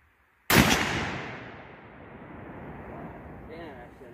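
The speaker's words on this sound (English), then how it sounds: "shoot all the clays I put up there" A single loud, close rifle shot at clay targets, chambered in 6.5 Creedmoor, .270 Win Mag or 300 WSM, cracks sharply and rolls into a long echoing decay, with faint outdoor background before it.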